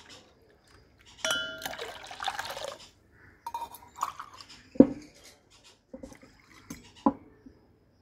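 Water poured into a pot in a kitchen splashes and trickles in short bursts, with a few light clinks of glass or metal between the pours.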